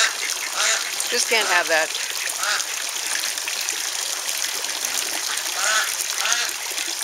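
Pet ducks quack noisily by a pond where a wild mallard wanders in, their calls mixed with a voice speaking close by.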